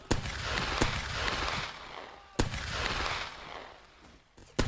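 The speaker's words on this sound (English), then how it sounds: "Black Bears, fire at will. They'll be able to put down a massive murderous fire upon the enemy." Troops in a video game firing volleys at the enemy: sharp gunshot cracks strike at intervals, each trailing into a rolling roar of massed fire, with a brief muttered voice.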